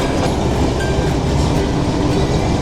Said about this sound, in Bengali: নতুন করে ট্র্যাক ঠিক করে আমাদের ট্রেনকে পাস করাচ্ছে।